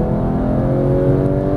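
Porsche 911 GT3 (991) engine pulls hard on a track at Las Vegas, a loud, close, sustained harmonic roar rising steadily in pitch under acceleration out of a corner, with no voices.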